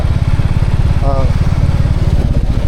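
A motorcycle engine idles loudly nearby with a steady, rapid throbbing exhaust pulse; a brief voice cuts in partway through.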